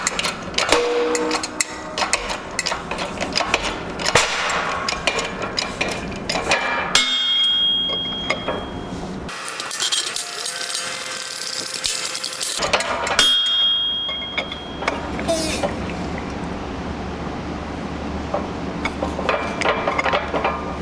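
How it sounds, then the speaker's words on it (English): Press forcing the wheel studs out of a Willys Jeep Dana 25 hub and drum, loud metallic clanks, knocks and grinding bursts with quieter gaps and short ringing tones, up close. "Press all the studs out and then the hub will separate from the drum."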